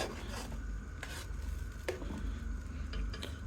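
Butter slowly melting in a pan to make ghee, giving off a steady low sizzle and bubbling hiss, with occasional scrapes of a spoon stirring against the metal.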